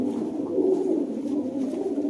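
Pigeons coo steadily in a low, continuous murmur, several birds blending together close by with no pauses.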